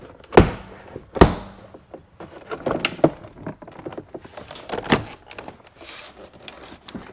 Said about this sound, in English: gently pry the door panel away from the door body itself, and it should pop off